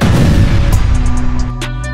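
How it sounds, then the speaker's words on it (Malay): An IWS 2000 anti-materiel rifle fires with a heavy booming report, loud and close, with a low rumbling tail that decays over a couple of seconds amid a few sharp ticks. "Bunyi tembakan memecah lantunan."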